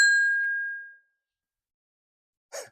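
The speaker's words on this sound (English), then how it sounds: "we'll go and ring the old bell" An old bell on a golf course at Burntisland Golf House Club in Fife is struck once, giving a bright ding that rings and fades over about a second, followed by silence and a short clatter.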